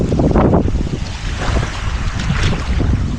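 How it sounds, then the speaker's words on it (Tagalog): A strong current rushes past a small boat, making loud, churning water noise with gusty wind buffeting the microphone, steady and close. "Malakas yung agos, oh. Parang hinilahin ka pa."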